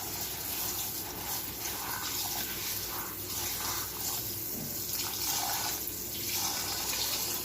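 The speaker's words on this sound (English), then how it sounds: "Okay, so I'll be washing my rice." Rice being washed under a running kitchen tap, a steady hissing stream of water splashing into a pot, continuous and fairly close with no talking.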